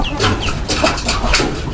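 Backyard chickens cluck repeatedly at close range, a busy overlapping run of short, loud calls.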